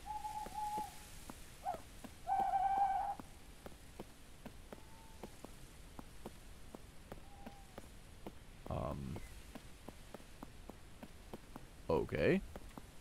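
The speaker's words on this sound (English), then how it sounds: "Whatever these birds are that are making the sounds need to stop." Hooting bird calls in a video game sound intermittently, some short and some warbling, over faint pattering like rain and scattered louder rustling bursts.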